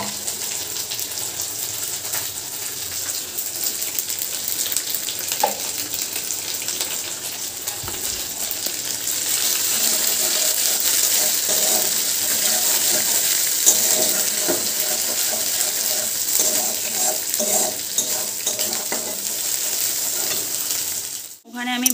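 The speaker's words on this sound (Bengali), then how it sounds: "ওখানে আমি ভাজতে দিয়ে দিয়েছি" Food sizzling in a frying pan, a continuous loud hiss with occasional crackles and stirring, steady and close throughout with no talk.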